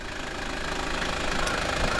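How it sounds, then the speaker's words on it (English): A 2000 Mitsubishi Delica turbo diesel 4x4 minivan engine idles up close, with a steady, slightly knocking diesel clatter and rumble that holds an even level throughout, with no voices. "engine running condition seems normal."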